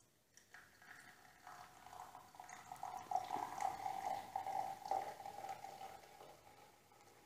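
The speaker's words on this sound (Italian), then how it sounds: "Ok, adesso andiamo a versarla." V Energy Drink Zero Sugar poured from an already opened can into a glass, a steady fizzing liquid stream with carbonation hiss, moderately close and alone for several seconds.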